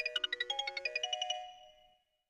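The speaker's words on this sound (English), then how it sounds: "as Chris was heading back, his phone rang." A mobile phone rings with a bright, rapid electronic trill of about a dozen quick pulses, close and clear, then a short fading tail into silence.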